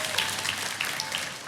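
A church congregation clapping together during a worship service, continuous even applause from many hands filling the room.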